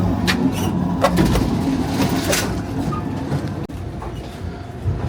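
Steady rumble and rattle of a moving Amtrak Texas Eagle passenger train heard from inside, with broadband clatter, a brief dropout, and faint voices in the background.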